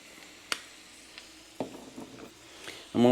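Sausage and shrimp sizzle in a pan, with sharp pops and spatters over a soft, steady fry, ending in a louder burst of crackling.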